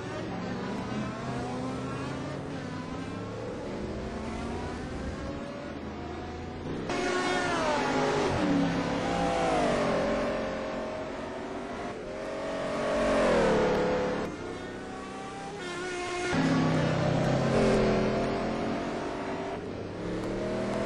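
Race cars from the ETC Black Cup 2008 round at Donington Park roar continuously, their engine notes rising and falling in pitch as they chase each other. Louder surges come and go as the cars pass close by.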